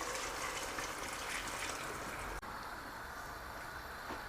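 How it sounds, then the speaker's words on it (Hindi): Boiled water poured from a cooking pot into a pot of goat trotter (mutton paya) curry, a steady watery rush and splash heard close up with no talk. "यहाँ पानी मैंने बॉईल कर लिया था एक डेगची में, तो अब मैं इसमें डालती हूँ।"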